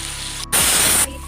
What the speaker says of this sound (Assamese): পনীৰখিনি অলপ ফ্ৰাই কৰি লৈছোঁ মানে গোটেইটো ফ্ৰাই নকৰোঁ হাফ ফ্ৰাই কৰিছোঁ